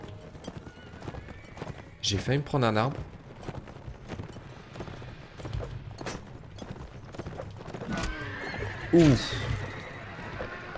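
In the video game Mount and Blade Warband, a horse in poor condition gallops with a rapid, steady clip-clop of hooves and gives two loud whinnies, while someone speaks quietly in French.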